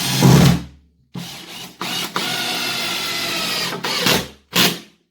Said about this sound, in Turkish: onluk bir vidayı çok rahat bir şekilde buraya takabiliyor